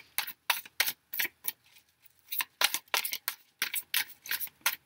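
Tarot cards being shuffled by hand, a run of crisp, close riffling bursts in quick clusters with short pauses between, fairly quiet, no voices.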